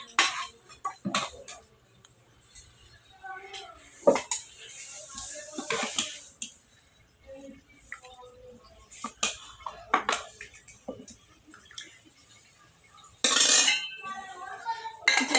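Steel pots and a steel tiffin carrier clink and clatter while mutton curry and rice are packed in a home kitchen, with irregular metallic knocks, scrapes and a burst of rattling near the end, close by and without speech.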